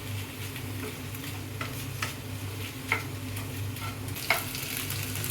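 Chicken sizzles and is stir-fried in a pan, a steady frying hiss broken by several sharp clicks and scrapes of the spatula, fairly quiet and close with no talking.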